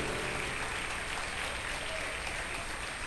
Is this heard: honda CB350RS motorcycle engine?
no